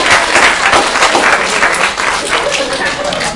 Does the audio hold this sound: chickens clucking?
no